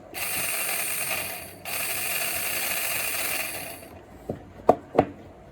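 A cheap toy slot car's small electric motor whirs steadily with a thin, high buzz, briefly cutting out once, then stops; a few sharp clicks follow.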